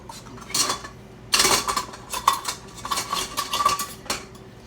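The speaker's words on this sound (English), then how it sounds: "Put a little of this warm milk into the eggs, temper them up." A utensil scoops warm milk into a bowl of eggs, with repeated bright metallic clinks and scrapes of spoon against dish, some louder knocks among them.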